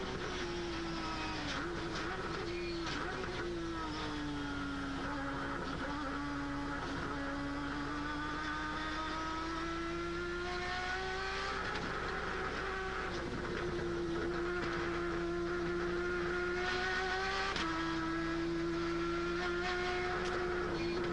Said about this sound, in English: Listen to that little Mazda rotor engine scream when it gets off this corner.